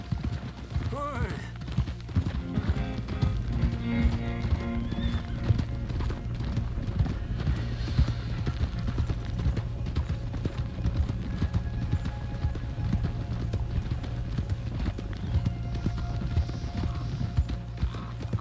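Horse hooves clip-clop steadily in a Wild West video game while a horse is ridden toward manor stables, with creaking tack and a brief whinny under game characters' talk.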